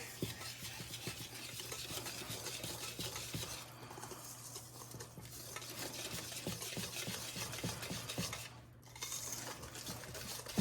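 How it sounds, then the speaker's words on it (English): Coffee and oil whisked together in a bowl for a birthday cake batter, making a steady, rapid scraping and clinking of a whisk against the bowl, quiet and continuous, with no talk. "Coffee and oil going in. Yum, yum. Coffee and oil. I know this looks a bit weird. So we're just gonna whisk these together."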